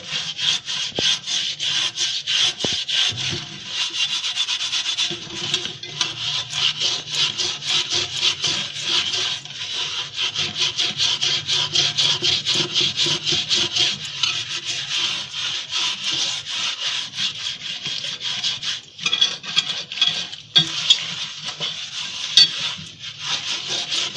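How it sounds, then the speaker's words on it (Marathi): Steady scrubbing of a new iron kadhai with soap and a wire scrubber, a continuous rough rasping and rubbing that runs close and loud without pause, with no talk. "आणि आता आपल्याला हा साबण आणि हा काठ्या घ्यायचा आहे. त्याने थोडंसं घासून काढायचं."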